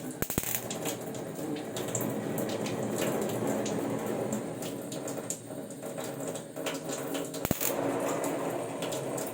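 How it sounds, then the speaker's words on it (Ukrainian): A kitchen faucet runs at low pressure in a continuous, fairly quiet stream, a steady hiss of flowing water with a few small clicks along the way. "Відкриваю водичку. Невеликий напір."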